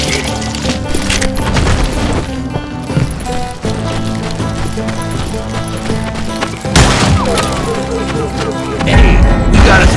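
Gunfights in the Western video game Call of Juarez: Gunslinger, with dense, loud bursts of gunshots, cracks and booms crowding together, a heavy blast around the latter part and swelling music underneath, mixed with in-game voices.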